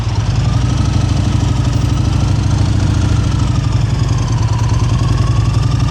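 A motorcycle engine idles and burbles close by in a steady, even drone while the bike rolls slowly and brakes to a stop, with no voices.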